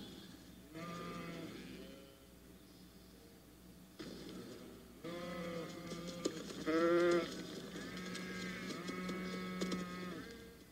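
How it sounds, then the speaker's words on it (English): A flock of sheep bleating, several overlapping wavering calls coming in bursts, some close and loud and others softer, with no talking. "An unguarded flock of sheep is defenseless."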